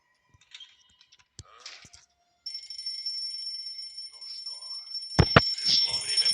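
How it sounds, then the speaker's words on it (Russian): An alarm clock goes off with a continuous high electronic ringing that starts a few seconds in, after scattered soft clicks and rustles, and runs to the end with a couple of sharp loud knocks near the close. "А вдруг будильник сам заработал?"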